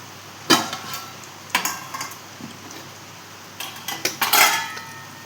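French fries tossed with salt, turmeric and spices in a bowl, a handful of sharp clinking knocks of a utensil against the dish in uneven bursts, close and clear, with a quiet background.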